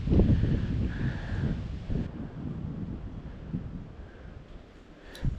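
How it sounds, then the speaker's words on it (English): Strong wind gusts at 15 to 20 mph roar across a microphone outdoors on a chilly crappie fishing trip, a dense rushing rumble that swells and fades, close and unbroken by speech. "But this wind is blowing like 15 or 20, so it's a little bit nipply."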